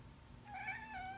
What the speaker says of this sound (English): I'm surprised you're meowing at me like that.